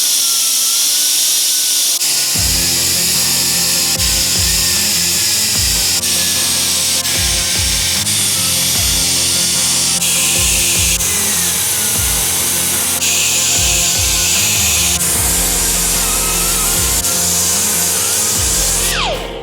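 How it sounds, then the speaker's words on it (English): Loud steel grinding on a Harley-Davidson Sportster flat tracker build with a custom oil tank fit, the abrasive whine starting after a couple of seconds and running almost continuously for the rest, close and unbroken by talk. "Okay, grind that down for the last one there."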